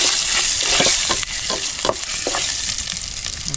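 Dried red chillies frying in a hot pan for chicken biryani, a steady close sizzle with occasional scraping stir sounds throughout.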